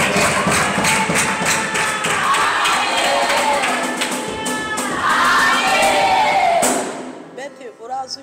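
Church congregation applauding and cheering to praise God, loud dense clapping mixed with shouts and excited voices, swelling and then cutting away near the end to a few scattered voices.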